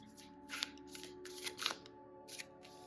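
Tarot cards shuffled and drawn during a card reading, a quiet run of soft riffling bursts and flicks over a faint steady hum, close and without talk.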